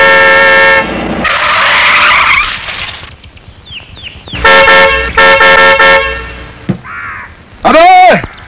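Car horns honk repeatedly in traffic during a Bollywood action scene, loud bursts mixed with tyre screeches and engine noise, with a voice shouting over them.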